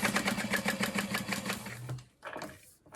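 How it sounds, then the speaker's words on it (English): A sewing machine stitches around the edges of a backpack in rapid rhythmic bursts of needle clatter, stopping after about two seconds, followed by brief softer handling noises. "I'm just going to lay this in place and sew around the edges"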